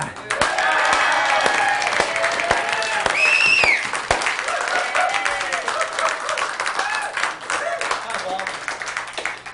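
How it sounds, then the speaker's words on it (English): An audience applauds a mime at a comedy-style show, dense clapping loud for the first four seconds, then thinning, with voices and laughter mixed in under the clapping. "How about a big round of applause for Bob the Mime?"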